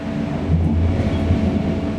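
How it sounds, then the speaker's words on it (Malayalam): A train rumbles steadily as it enters a mountain pass beyond Gloggnitz in southern Austria, a low continuous roar with some wind buffeting and no distinct clatter, heard from on board. "ഗ്ലോഗ്നിറ്റ്സ് കഴിയുന്നതോടെ ട്രെയിൻ ഒരു ചുരം പാതയിലേക്ക് കടക്കുകയാണ്."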